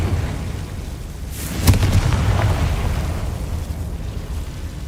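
A fire-blast spell explodes with a sudden boom in the fantasy game Hogwarts Legacy, a sharp burst over a dense, rumbling ambient bed.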